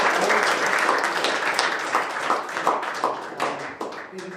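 A classroom audience at a career day gives a round of applause, dense steady clapping from many hands filling the room and tapering slightly toward the end, with no talk over it.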